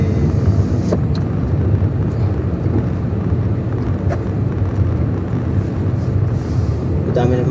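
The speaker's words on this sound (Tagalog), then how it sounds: "Madami naman sasakyan eh." Steady rumble of heavy traffic near Abha's Rijal Almaa heritage village, with vehicles passing continuously and a faint wind buffeting the microphone throughout.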